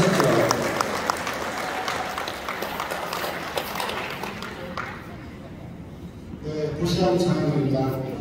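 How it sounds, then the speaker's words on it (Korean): A crowd at a volunteer training gathering claps to welcome a deputy mayor to the stage. The steady applause gradually thins out and fades, and a voice and other sounds follow near the end. "여러분 큰 박수로 환영해 주십시오."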